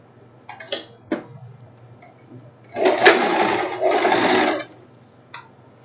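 A sewing machine stitches a seam on a silk tank top in two sustained whirring runs, preceded by a few short clicks and taps, close and clear in a quiet room.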